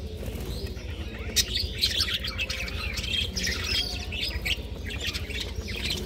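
Pet birds chirp and squawk busily at close range, overlapping calls with a few flutters of wings over a low background hum.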